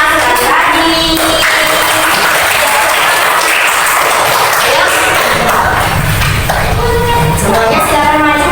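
A classroom of students applauds group 3 before their presentation, loud, dense and continuous clapping close by that fills the whole stretch without a break.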